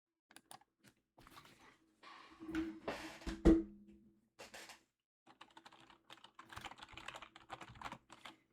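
Keys clatter on a computer keyboard in uneven bursts as a message is typed, with short pauses between words and a quick run of heavier strokes in the middle; close and clear, with no one talking.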